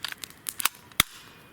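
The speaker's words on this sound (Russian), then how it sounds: "Это у меня фирма Сталкер пистолет," A Stalker replica Glock 17 pistol fires in a snowy forest, giving a few sharp cracks with one loud close shot near the end. No one speaks.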